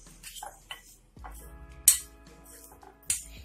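A metal spoon mixes boiled potatoes with dry spices for aloo chaat, giving a few sharp clinks and scrapes against the bowl. The sounds are close and fairly quiet, with short pauses between them.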